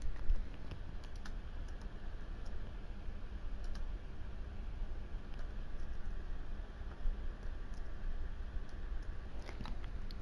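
Keys on a computer keyboard clatter in a steady, close stream of quick taps while a Trello card is edited, with no talk over the typing.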